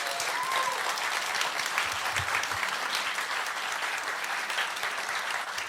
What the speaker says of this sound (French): Je vous propose de les remercier, de les applaudir.